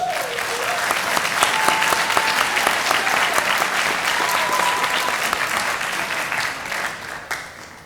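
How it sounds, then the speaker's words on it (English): Sustained, dense audience applause fills a senior awards and cording ceremony hall, steady and loud throughout before tapering near the end. "Please hold your applause until all members are on the stage"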